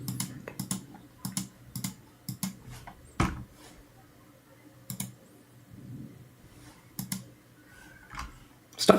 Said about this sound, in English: Stop clicking so much.